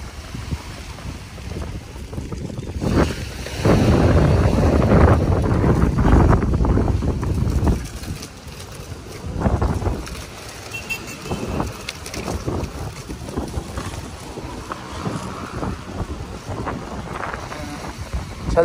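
Strong wind blows across a beach, roaring in loud, rough gusts that buffet the microphone and surge and fade unevenly over the whole stretch. No voices can be heard over it.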